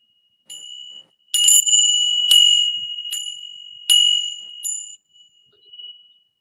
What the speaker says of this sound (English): I'm going to do the bell.